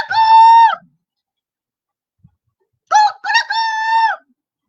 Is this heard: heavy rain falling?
no